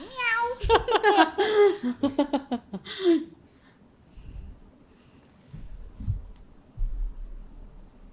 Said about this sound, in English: Like a cat.